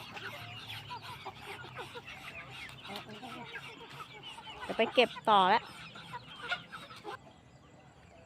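Hmong hill-tribe chickens on a mountain farm cluck steadily, with a burst of louder, sharper squawks near the middle, close by and mixed under a person talking.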